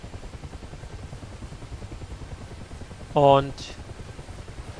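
A Mi-8 helicopter in the video game Digital Combat Simulator drones with a steady rotor thump and engine whine at moderate level, someone briefly speaking over it.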